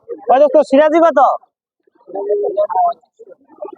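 Pigeons coo at a weekly poultry and pigeon market, with low throaty calls mixed in among close talk from people nearby.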